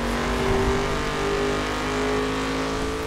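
Cars racing in the video game The Crew during an illegal street race give a steady, droning engine whine with a sustained high tone and road noise, fairly loud and with no talking.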